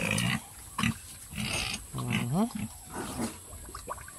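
Native pigs grunting and squealing in a pen in a series of short, close calls, with a higher rising squeal midway, over a steady background hum.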